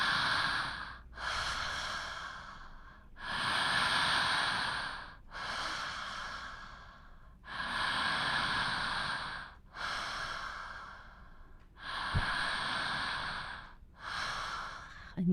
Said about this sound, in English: we'll want to have an open mouth, connecting the inhale and exhale.